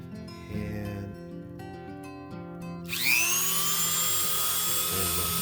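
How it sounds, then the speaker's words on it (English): A Dremel rotary tool fitted with a small cutoff wheel spins up to a steady high-pitched whine, preparing to cut Kato N scale model railway track, preceded by quieter tonal background sounds. "I'm going to use this Dremel tool here with a little cutoff wheel"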